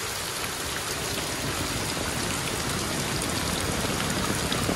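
A swelling river beside a village rushes steadily in a dense, even wash of flowing water, close and continuous with no voices.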